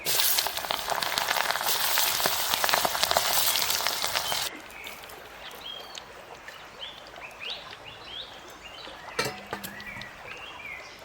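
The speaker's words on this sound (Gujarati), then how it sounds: "તો હવે આપણું તેલ આવી ગયું છે, તો આપણે કાંદા તળી લેવું પહેલાં" Onions frying in hot oil give off a loud, steady sizzle for several seconds, then the hiss drops to a softer, uneven crackle.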